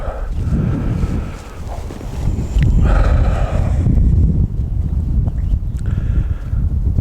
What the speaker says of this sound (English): Disappointing, but with that wind blowing as well